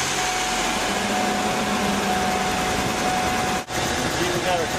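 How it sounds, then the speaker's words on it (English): Van engine with a misfire, doghouse cover removed and an inline spark tester on one plug wire, running with a steady broadband roar that cuts out briefly near the end. "Going to start the engine."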